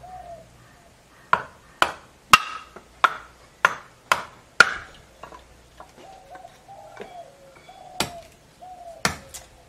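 A short piece of bamboo about eight inches long is split to make a kortal, giving a rapid run of sharp, loud cracks and knocks, then a few scattered later strikes, with faint bird chirps in the background.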